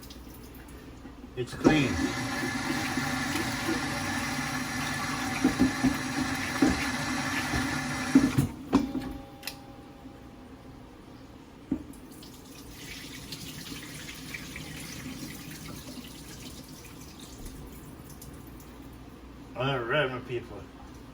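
Tap water runs steadily into a sink while vegetables are rinsed, loud and close for several seconds and then easing off, with a person talking over it.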